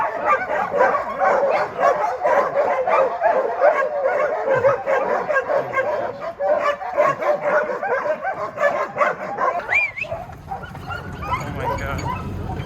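A pack of sled dogs in Juneau, Alaska barking and yipping excitedly before a dog sled run, a dense nearby chorus of overlapping barks and whines that thins out near the end.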